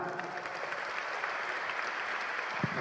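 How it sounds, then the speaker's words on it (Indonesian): Audience applause at a student gathering, a steady wash of many hands clapping throughout, moderately quiet and unbroken, with no voices standing out above it. "Oke, tepuk tangan."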